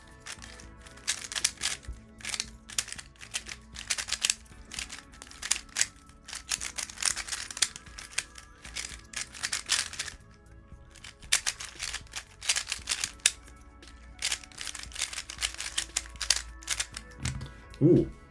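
A MoYu puzzle cube being turned rapidly during speed solves, a dense run of plastic clicks and clacks in quick bursts with short pauses, close and clear, ending in a brief thump.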